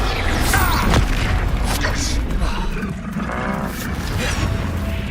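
Confringo blasting spell explosions in Hogwarts Legacy, heavy booming blasts and crashing impacts filling the clip in a dense, loud combat din, with voices shouting over the noise.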